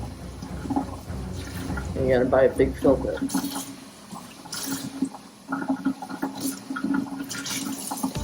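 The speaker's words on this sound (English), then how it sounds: "So we're just rinsing out the substrate really good, getting the crap out" Water running and splashing as turtle tank substrate is rinsed, intermittent gushing and trickling close by under a person talking.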